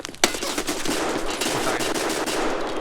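Gunfire in the video game Escape From Tarkov: one sharp, loud shot followed by a string of rapid automatic bursts crackling over a dense, noisy background.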